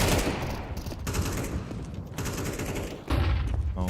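AK rifle fire in Counter-Strike rattles out in loud, rapid automatic bursts, with brief gaps between volleys and a sharper crack near the end.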